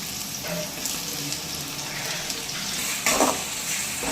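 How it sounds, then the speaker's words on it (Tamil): A steady sizzle of onion, garlic and tomato frying in a hot pan, with occasional spatters and stirring scrapes, close and continuous. "வெங்காயமும் பூண்டு நல்லா வதங்கி வந்துருச்சு"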